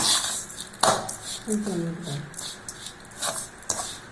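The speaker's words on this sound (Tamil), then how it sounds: "நல்லா கலருங்க, அப்படியே கட்டியாயிடும்." A spoon scrapes and knocks around a pot while a thickening kolukattai dough is stirred, giving irregular clanks and scrapes close by, with brief voices in the background.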